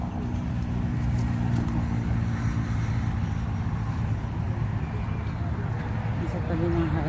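Steady highway traffic roars beside a flamingo habitat in Dubai as a constant close rumble of passing cars and trucks, continuing throughout with people talking over it.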